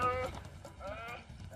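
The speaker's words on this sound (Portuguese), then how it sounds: "O barulho que o orictéropo fez foi tipo de um balido profundo" Wild aardvark giving a deep bleating call, two wavering sheep-like bleats close up, the first near the start and a second longer one a moment later.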